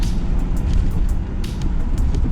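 A 1990s Pontiac Trans Am, thirty years old and freshly tuned up, launches hard from a dead stop on cold, soaking wet ground, its engine roaring loud and close with a rough, gravelly rumble and sharp crackling pops throughout.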